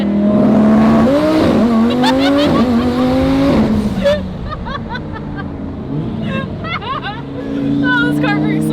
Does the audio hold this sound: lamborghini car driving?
yes